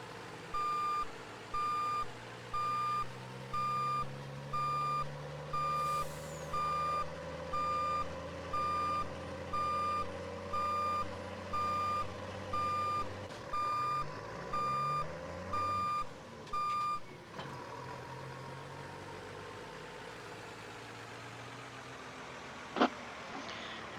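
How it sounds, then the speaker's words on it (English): A truck backing up in Farming Simulator 22, its reversing alarm beeping in a steady regular pattern over an engine drone, then stopping as the engine note shifts and a sharp clunk sounds near the end. "So we're going to back up here and grab the trailer first."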